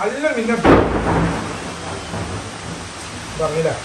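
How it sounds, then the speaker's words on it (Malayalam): Thunder cracks and rumbles once, loud and close, over a steady hiss of rain falling around a village house; a voice is heard briefly before and after. "ഇടി വെട്ടുന്നു, മഴ പെയ്യുന്നു."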